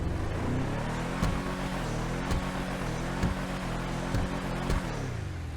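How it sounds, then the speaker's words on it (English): A Vapid Caracara 4x4 truck in the video game GTA Online drones with a low, steady engine note, revving slowly with slight rises and small knocks throughout, close and continuous under a windy hiss. "let's see what the Vapid Caracara 4x4 sounds like"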